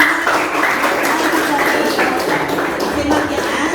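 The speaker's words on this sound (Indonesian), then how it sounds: "Tepuk tangan dulu untuk kelompok." Classroom applause for a student group about to present, a steady wash of clapping from many hands throughout, with faint voices mixed in.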